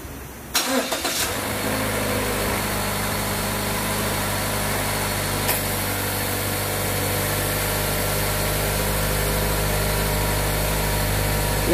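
A Mazda car's engine cranks and catches, then settles into a steady, loud, high-RPM cold-morning idle that drones on continuously with no talk.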